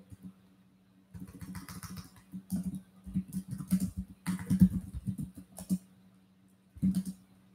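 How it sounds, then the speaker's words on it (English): Quick, irregular clatter of computer keyboard typing, close by, in bursts separated by short pauses. "Sorry if the typing is loud."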